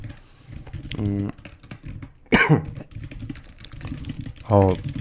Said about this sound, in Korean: 가족 기침 계속 나오네요.